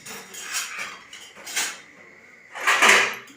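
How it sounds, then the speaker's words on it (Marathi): Just-washed dishes after a meal being stacked and put away, with three separate bursts of clinking and clattering metal pots and utensils, the last one loudest. "दिदीनं भांडी घासल्यात आत्ता जेवलेली आणि भांडी लावते दिदी"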